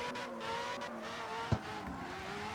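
Mazda RX-7 rotary engine in the CarX Street game, tuned to 492 horsepower with a raised rev limiter, revving high in a sustained buzzing whine with a brief sharp knock midway.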